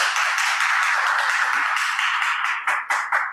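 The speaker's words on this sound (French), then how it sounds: "Applaudissez-le, s'il vous plaît." An audience claps for a participant, dense fast applause at a steady level that breaks into a few scattered final claps at the end.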